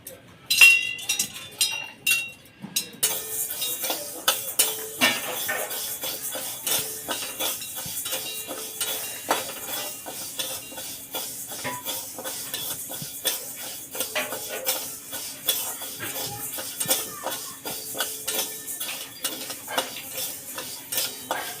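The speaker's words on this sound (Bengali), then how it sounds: "এই মুগ ডালটা এবার ভাজা।" Moong dal being dry-fried and stirred in a wok, with a steady run of scraping, clinking spatula strokes against metal throughout, fairly close, after a brief quieter start and no talk.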